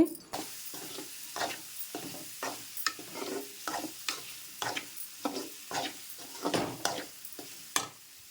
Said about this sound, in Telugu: ఇంకా కారం కూడా పచ్చివాసన పోయేంత వరకు అయితే వేపుకోవాలి